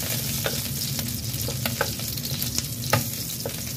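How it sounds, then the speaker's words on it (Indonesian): Sliced shallots and garlic sauté in hot oil in a pan, a steady close sizzle broken by quick scraping stirs, with no voices. "Tumis sampai dengan mateng ya teman-teman atau berbau harum"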